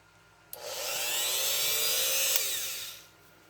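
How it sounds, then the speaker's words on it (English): A cheap knockoff Dremel-style rotary tool whines up as it starts cutting, holding a bright high-pitched scream with a wavering pitch for about two and a half seconds before it cuts off, close and loud with no voices. "a Dremel tool or some knockoff version like this"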